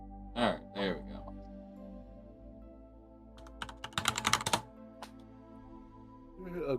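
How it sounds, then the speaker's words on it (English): Hard, fast typing on a computer keyboard sounds as a dense cluster of sharp clicks in the middle, after two short vocal sounds near the start and before a few scattered single key taps. "Aggressively smashing fingers upon keyboard."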